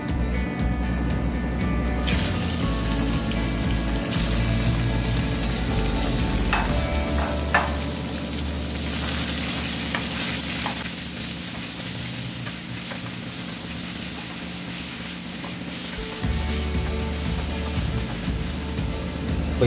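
Chicken pieces fry in a pan with ginger-garlic paste, a loud close sizzle with stirring scrapes, dipping mid-way and swelling again near the end.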